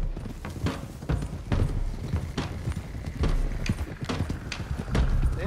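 Horses in the video game Red Dead Redemption 2 gallop in a close, rhythmic drumming of hooves, several mounts pounding together at a steady pace, with a voice speaking over the ride.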